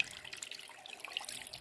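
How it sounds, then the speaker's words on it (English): Tap water pours into a stock pot in a kitchen, a brief bright splashing and gurgling stream, steady and close with no voices. "we're going to cover this with water"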